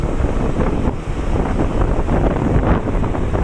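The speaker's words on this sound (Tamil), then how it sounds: "காற்று சத்தம் அதிகமாக கேட்டுகிட்டு இருக்கு." Strong wind buffets the microphone in a steady, loud roar with gusty rumbling throughout and no other clear sounds, during heavy rainfall in Sulur.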